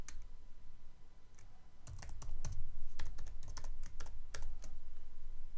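Rapid, uneven keystrokes on a computer keyboard, clicking in short bursts with brief pauses, close and clear against a faint steady background hum.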